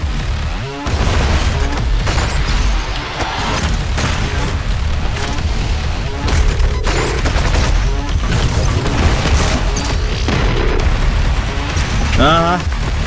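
Rapid bursts of DOOM Eternal gunfire and booming explosions crowd a dense, loud mix, with a voice speaking over the shooting.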